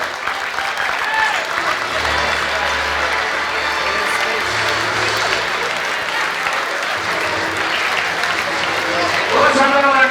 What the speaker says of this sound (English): Let's have another nice round of applause for all of our Iona basketball alumni.